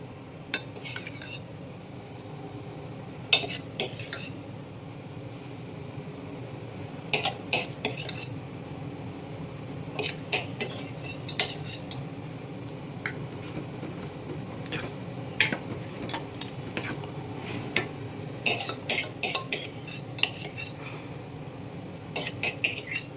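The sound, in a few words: lentils being scraped and mixed into a pot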